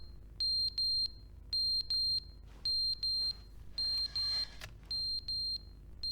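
An alarm in the video game The Stanley Parable beeps in loud, evenly spaced pairs and triplets of sharp high-pitched tones, repeating steadily over a low background hum with no talk.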